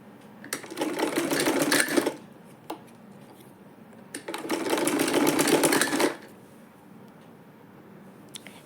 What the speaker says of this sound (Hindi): फ्रंट पर हम इस तरीके से इसको टर्न कर लेंगे एंड फैब्रिक को अंदर की साइड इस तरीके से हम फोल्ड करते हुए स्टिचिंग करते जाएंगे।